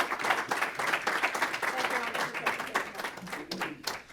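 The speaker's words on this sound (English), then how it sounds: "So let's give a round of applause and bring Mark up today." A forum audience gives a round of applause, steady dense clapping from a crowd sustained for a few seconds, with some voices mixed in.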